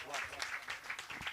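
Steady clapping from an audience at a Hindi comic poetry gathering, a continuous patter of many hands at moderate volume.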